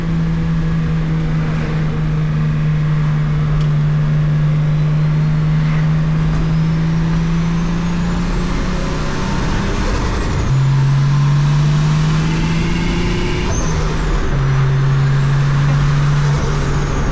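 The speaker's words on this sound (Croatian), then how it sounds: "Ovo je bez boosta, zato je ovako spor. I ja polako stiskam gas." A Nissan 280ZX's engine pulling slowly under light throttle with no turbo boost, a loud steady drone that rises gradually in pitch, drops at a gear change near the middle, then climbs again.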